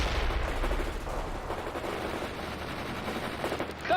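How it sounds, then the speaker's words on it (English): Sustained machine gun fire from the World in Conflict strategy game, dense rapid bursts of shots running steadily through the whole stretch at close range, with battle noise underneath and no talking. "Set up that machine gun. Fire."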